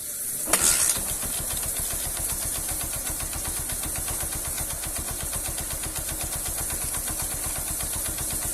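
A motorcycle engine under stator and regulator troubleshooting fires up after a brief crank, then settles into a steady, close, loud idle with an even rapid pulse that runs to the end.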